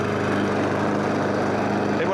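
A self-propelled lawn mower engine runs steadily at close range, a constant loud mechanical drone with a low rumble throughout.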